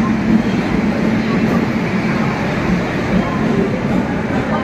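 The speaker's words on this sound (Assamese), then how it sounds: "ট্ৰেইন আহি গ'ল" A Rajdhani train pulls into a station with a steady, loud, dense rumble that fills the whole stretch, with a faint murmur of platform voices beneath it.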